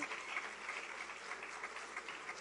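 Applause from a school staff audience welcoming a new subject coordinator in St Kitts and Nevis, a faint, distant, even patter of clapping with no voices.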